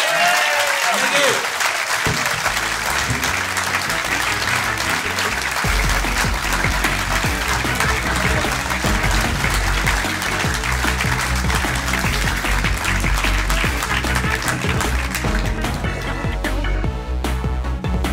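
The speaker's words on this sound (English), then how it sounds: "please give a massive round of applause for Dan Skinner" A large studio audience at a London podcast recording gives sustained, loud applause that holds steady for a long stretch before beginning to thin near the end.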